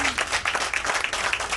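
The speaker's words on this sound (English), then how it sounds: "So let's clap for her as well." Applause from a group at a tourism staff gathering in Sierra Leone, a dense, steady patter of many hands clapping together at moderate volume for the length of the clip.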